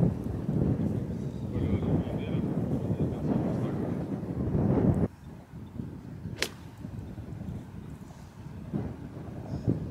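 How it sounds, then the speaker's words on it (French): Strong headwind buffeting the microphone on a European Tour golf course, a loud broadband rumble of gusts for the first half, easing to a lower roar afterward with a brief sharp swish in between. "Le vent contre est énorme."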